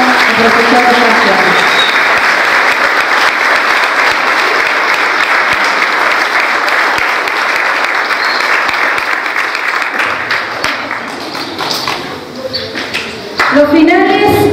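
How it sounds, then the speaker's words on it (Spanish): Loud, sustained audience applause at a school event fills the hall, steady dense clapping that thins out near the end with a brief swell of cheering and children's voices. "pido un fuerte aplauso para él"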